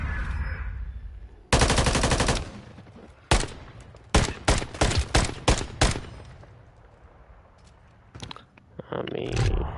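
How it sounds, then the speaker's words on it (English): Loud, close shotgun blasts ring out in a Call of Duty Search and Destroy match, opening with a sustained burst of fire, then a quick series of sharp single booms, each stopping abruptly, with quieter game noise between. "That's when you pull out the shotgun"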